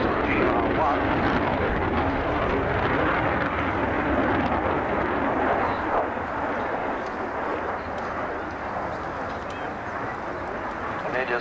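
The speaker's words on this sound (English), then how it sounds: "our noisiest display, I think, this afternoon, the British Tri-National Tornado. This is the GR1." A Panavia Tornado GR1 jet flies a display at an RAF airshow, a loud, continuous engine roar that fills the whole clip, slowly fading slightly toward the end, with faint crowd or commentary sounds underneath.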